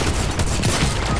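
Rapid fusillade from a cannon weapon in a video game, a dense, continuous burst of loud gunfire that fills the whole moment with no pauses.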